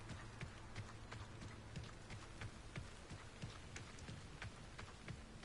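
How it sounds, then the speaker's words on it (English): Rain falls in Hogwarts Legacy, the PlayStation 5 game, as a steady, faint wash of drops with soft, irregular patters and no voices. "It's raining."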